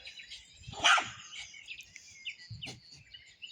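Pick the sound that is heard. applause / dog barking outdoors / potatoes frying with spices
dog barking outdoors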